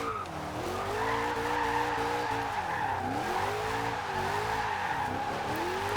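An offroad Dodge Charger drifts in Forza Horizon 2, its engine note rising and falling as the revs swing, with tyre skid noise layered underneath, continuous and close.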